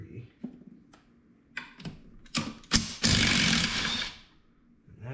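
Four coolant pump housing bolts come loose on a Polaris 700 engine during teardown, with scattered ratchet clicks and short mechanical clacks building to a loud sustained rasp near the end, mixed with handling noise and occasional voice.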